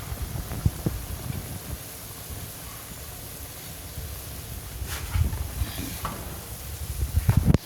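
Native chicken with carrots and curry sautéing in a pan, a steady soft sizzle with occasional stirring scrapes and clatter, louder near the end.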